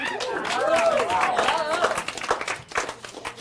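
Audience clapping and applause in a hall, a brief burst of many hands that swells and then thins into scattered claps, with voices and crowd noise mixed in.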